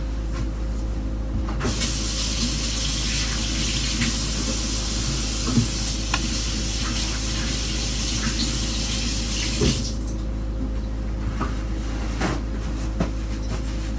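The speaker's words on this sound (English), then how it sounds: "let me go wash my hands" Hands are being washed under a running kitchen tap before rolling sugar cookie dough, a steady close hiss of spraying water that pauses briefly near the end and then resumes, with no talking.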